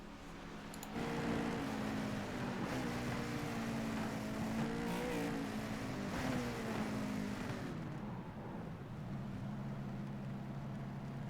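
Race car engine in an ARCA series sim race at Atlanta as a car pulls into the pits, a steady droning motor with slight pitch shifts, heard at a distance under a constant background hum.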